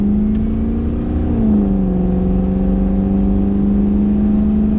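A 1-ton swapped Land Rover Discovery 2 on 37-inch tires revs its engine up close, a steady loud drone that climbs in pitch partway through and holds high.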